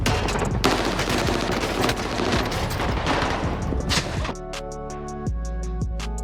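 Rapid automatic gunfire in a first-person shooter video game, dense loud bursts of shots that stop abruptly, followed by a few isolated booms and electronic tones.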